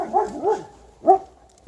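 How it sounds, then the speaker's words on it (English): German shepherd barking at a yard corner: two quick barks close together, then a single louder bark after a short gap, near and fairly strong. "this shepherd always runs to this corner and then barks from here"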